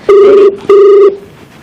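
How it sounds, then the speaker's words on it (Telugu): A telephone bell rings twice in quick succession, loud and close, each ring a buzzing trill lasting under half a second. "రింగ్ అవుతుంది"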